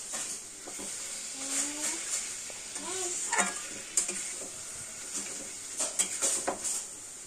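Melted jaggery is stirred into chalta (elephant apple) pickle in a pan, giving a soft, steady sizzle with intermittent scraping strokes of the spoon, fairly quiet and close.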